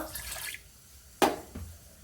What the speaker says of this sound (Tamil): இப்படி அரை டம்ளர் தண்ணி ஊற்றிக்கங்க